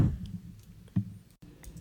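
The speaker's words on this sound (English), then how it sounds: "God, I feel like such an old person typing this in." A computer keyboard is typed on close by in a few soft, irregular clicks and taps with brief pauses between them.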